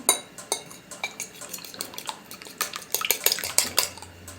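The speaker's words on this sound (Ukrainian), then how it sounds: "Вбила я його в миску, додаю трішки спецій" Rapid, light clinking of a utensil against a bowl as an egg with spices is whisked, quick irregular taps and scrapes, close by with no voices.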